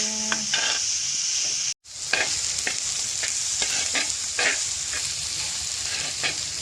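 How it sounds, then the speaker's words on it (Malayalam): Onions sautéing in a pan with mushrooms give a loud, close sizzle while a spoon scrapes and taps in an irregular rhythm, with a short break of silence early on. "നമ്മുടെ ഉള്ളി നന്നായി വഴണ്ട് വന്നു"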